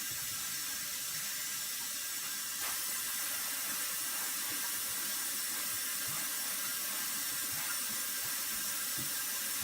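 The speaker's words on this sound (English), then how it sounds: "Take the day 1 bucket with paint strainer, barley, and rinse it out." Water runs steadily from a tap to rinse out a bucket that held barley and a paint strainer in a fodder-growing setup, a constant hiss with faint splashes and no talking.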